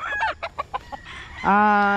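A gamecock stag, a battle-cross bred fighting rooster, gives a few short close clucks and then breaks into a loud, clear crow.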